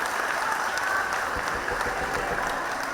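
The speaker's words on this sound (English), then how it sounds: "And big round of applause to them." An audience at a religious gathering at Shri Chitrapur Math in Karla applauds young volunteers, with dense, even clapping that holds steady for the whole stretch.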